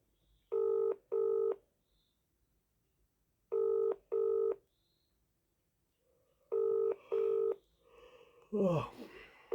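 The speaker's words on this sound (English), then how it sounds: "Ring up Christopher Browell." A mobile phone dialling out, with pairs of short touch-tone beeps in three bursts separated by pauses, clear and close, followed by a brief breath or gasp at the end.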